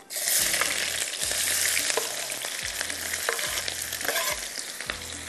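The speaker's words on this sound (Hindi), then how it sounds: "मोटी मोटी प्याज को कटिंग किया, ये जाएगी ऑयल के अंदर" Thick-cut onions frying in oil, a steady close sizzle broken by regular scraping stirs about every half second, with no voices.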